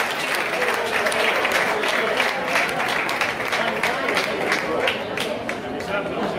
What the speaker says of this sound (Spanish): Así que un fuerte aplauso para Charlie.